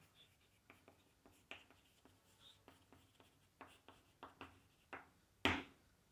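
Chalk or marker writing on a classroom board during a vector calculus lesson, a quick series of faint, close strokes and taps in an uneven rhythm, ending with one sharper, louder knock.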